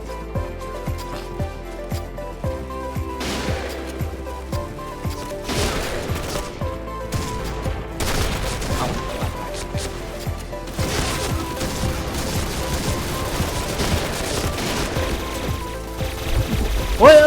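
Jackhammer shotgun gunfire in a shooter game, a series of repeated heavy blasts at irregular intervals over continuous combat noise, loud and near, with a voice occasionally talking.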